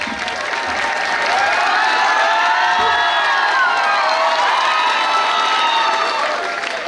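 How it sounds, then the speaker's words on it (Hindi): School annual function audience applauding and cheering, a loud sustained wash of clapping with shouts and whoops from children across the hall, steady throughout. "जोरदार तालियों से उनका स्वागत करें।"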